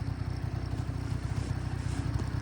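Suzuki Lets 2 two-stroke scooter engine running steadily at idle, a low continuous burbling putter with a fast even pulse, close by and moderately loud, with no talking.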